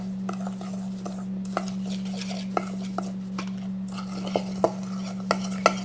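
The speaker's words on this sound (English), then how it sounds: "I'm going to stir this up." A spoon stirs melted butter into a cheesecake crumb crust mixture in a bowl, giving soft repeated scrapes and light clinks against the dish over a constant low electrical hum.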